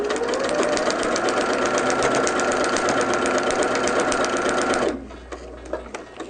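A home sewing machine runs a long basting stitch at a 5.0 length around the edge of a quilt block. It whirs fast and steadily for about five seconds, then stops, leaving quiet room sound and a few small clicks.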